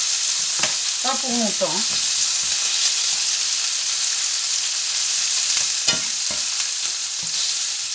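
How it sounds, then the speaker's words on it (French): Tomato slices pan-frying with a steady, close sizzle, broken by scraping and utensil taps, while a voice speaks briefly over it. "on va aussi également poêler les tranches de tomates"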